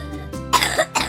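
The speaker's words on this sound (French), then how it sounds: "et voici une toux grasse." A wet, productive cough with mucus comes as two or three quick, close bursts in about a second, rough and chesty in texture.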